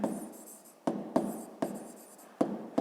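A pen writes on paper while working a fifth-grade maths exercise: quiet, close scratching strokes broken by a few sharp taps as the pen meets the page, with brief pauses between bursts.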